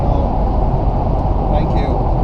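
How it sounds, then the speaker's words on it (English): Steady road and wind roar from an electric-converted BMW E31 840Ci with a Siemens motor, cruising on a motorway at 75 mph; a constant, loud, even rumble throughout with no breaks. "pumping down the motorway here at 75 miles per hour, drawing 44 amps, with a Siemens motor in a BMW E31"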